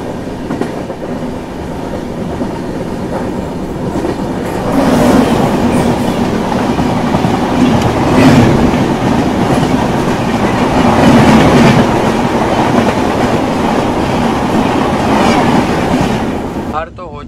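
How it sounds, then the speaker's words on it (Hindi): Himsagar Express rolling past the Vivek Express at night in India, a steady loud rumble of rail carriages with clickety-clack wheel beats that swells midway as the opposing train passes close, then eases at the end. "अभी क्रॉसिंग होने वाली है हमारी इंडिया की पहली इंडिया की सबसे लॉन्गेस्ट ट्रेन जर्नी यानी कि विवेक एक्सप्रेस के साथ क्रॉसिंग"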